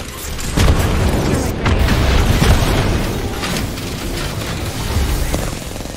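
In Apex Legends, a frag grenade explodes with a loud, booming blast. Dense gunfire rumbles around it for several seconds.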